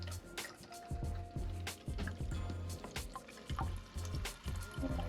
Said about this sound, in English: this time I'm gonna turn on the hot water.